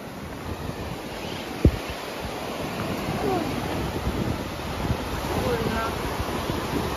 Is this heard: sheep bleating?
no